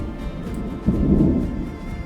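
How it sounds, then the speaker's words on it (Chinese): A deep, rumbling roll of thunder swells up over a constant low wash of wind or rain, sounding distant and heavy, during a mountain storm on a hiking trail near Mono Pass, California. "雷打得好厉害！"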